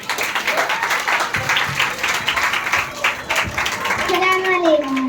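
An audience of parents and guardians applauds at a school fancy dress day, a sustained burst of clapping with a voice speaking over it. A brief musical tone rises near the end.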